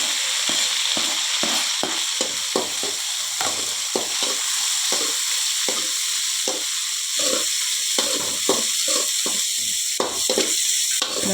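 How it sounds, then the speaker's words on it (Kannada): Crushed garlic frying in a pan gives a steady, close hiss, with a run of quick scraping stir strokes laid over it the whole way through; no one speaks. "ಇದನ್ನು ಸ್ವಲ್ಪ ಚೆಂದ ಫ್ರೈ ಆಗಲಿ ಫ್ರೆಂಡ್ಸ್."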